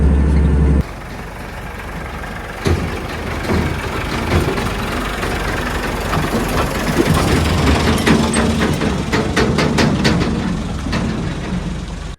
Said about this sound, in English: Right, 6290 is just driven into the shed there.